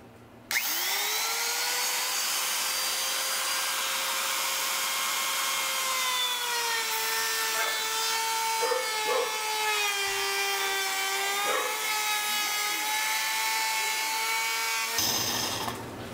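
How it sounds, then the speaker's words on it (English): A handheld trim router runs steadily for about fifteen seconds, cutting around the top edge of a wooden lid held in place on the lathe; a loud, continuous whine with a slight wavering pitch starts and stops abruptly. "I'll just take my trim router and go around that"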